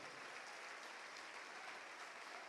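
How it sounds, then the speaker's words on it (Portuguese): Church congregation applauding during a worship service, a steady, dense wash of many hands clapping that stays even and fairly distant for the whole stretch, with no voices standing out. "vamos aplaudir mais,"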